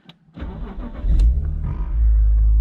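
A 2.2-litre BMW Z4 E85 engine cranks and fires, then settles into a loud, steady idle close by, with deep rumble building after the start.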